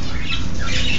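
A pet bird squawks loudly and close up, one harsh, raspy call lasting about a second that fills the clip with no talking.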